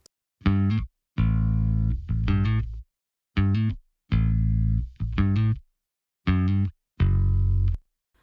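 Punchy bass guitar notes play alone in short phrases separated by silences, each note thick and evenly controlled with a tight, compressed sustain.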